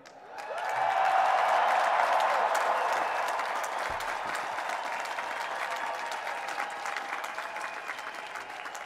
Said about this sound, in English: So one more time, let's cheer and wave.